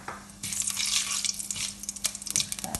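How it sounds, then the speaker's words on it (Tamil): Mustard seeds spluttering in hot sesame oil in a pan, a close, dense crackling and popping that swells after a brief quiet start, then breaks into sharper scattered pops toward the end. "பாருங்க கடுகு இப்போ வடிக்குது."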